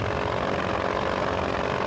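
A Eurosport helicopter flying over the 1993 Pharaohs Rally Raid desert stage gives a steady, loud rotor and engine drone that holds evenly throughout, with no voices.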